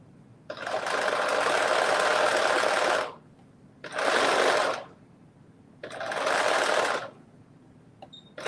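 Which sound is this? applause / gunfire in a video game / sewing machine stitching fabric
sewing machine stitching fabric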